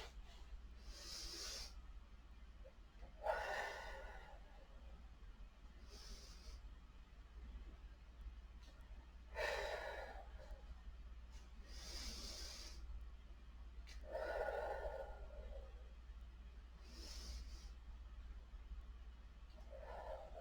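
Slow, deep breaths during a gentle yoga session, each soft airy inhale or exhale arriving every few seconds over a quiet low hum, with no talking.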